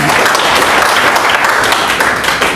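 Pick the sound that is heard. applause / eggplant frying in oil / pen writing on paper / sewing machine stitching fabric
applause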